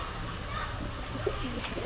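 Pigeons at a pigeon market in Khulna, including an old-bloodline breeding pair, coo in soft repeated bursts over a dense background murmur of the market crowd.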